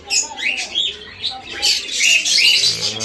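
Several budgerigars kept in a flock for sale squawk and chirp close by in loud, overlapping bursts, with faint chatter and noise beneath them.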